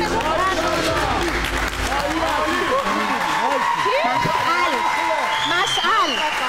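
A studio audience at a televised pantomime game show claps steadily and loudly, with shouts and excited voices mixed into the sustained applause throughout.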